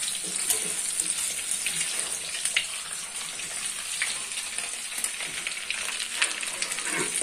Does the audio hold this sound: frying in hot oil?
yes